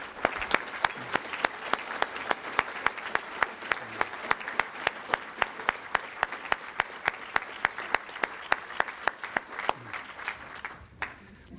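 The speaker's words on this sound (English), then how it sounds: "one more round of applause for all the scholars and their families" Steady applause from a luncheon audience honoring Rotary scholarship recipients and their families, individual claps distinct and fairly close, sustained evenly before tapering off at the end.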